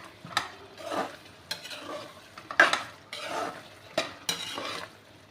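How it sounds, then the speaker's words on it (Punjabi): Repeated scraping strokes of a spoon stirring tomato chutney with tempering in a pan, with a soft sizzle underneath, close and fairly quiet, no talking. "ਆਪਾਂ ਤੜਕਾ ਪਾ ਕੇ ਵੀ ਚੰਗੀ ਤਰ੍ਹਾਂ ਇਹਨੂੰ ਪਕਾ ਲਾਂਗੇ"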